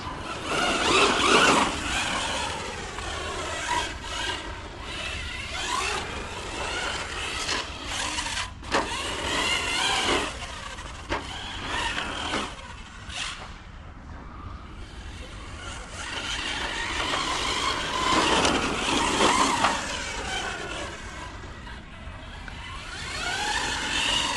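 A Hobao Hyper 10SC short course RC truck drives on dirt, its electric motor whining in rising and falling bursts as it speeds up and slows, fading at moments and returning louder.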